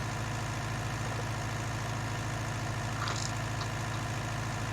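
A 754 tractor engine ploughing a new field, heard as a steady, close, low mechanical drone that runs unbroken from start to finish with no talking.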